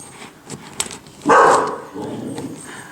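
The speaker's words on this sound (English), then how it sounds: "Oh, the dog sees something she doesn't like." Dog barking in a room at about 1.3 s, one loud, fairly close outburst that fades over roughly half a second, with fainter bits of noise around it.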